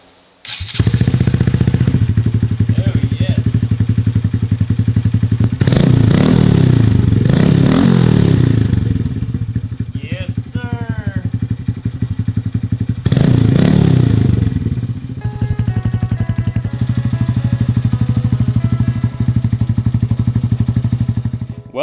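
A Honda Grom motorcycle engine starts and runs loudly up close, a steady throbbing idle broken by several sharp revs and some clattering and scraping nearby.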